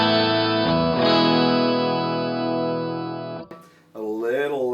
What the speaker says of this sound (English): So you get kind of like that 12-string effect.